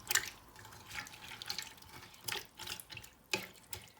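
Water splashing and trickling into a pressure cooker of dal and meat in uneven bursts, close by, with some drips between pours.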